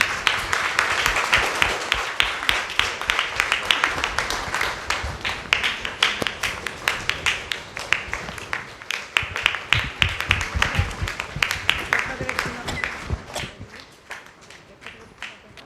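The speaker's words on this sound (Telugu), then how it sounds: "అందరం కూడా గట్టిగా చప్పట్లు కొడతారు" A church congregation at a blessing ceremony for a renovated shrine applauds loudly and steadily, a dense wash of clapping that thins toward the end.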